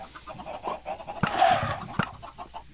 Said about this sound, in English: there were a bunch of adult chickens, but they all just got vaporized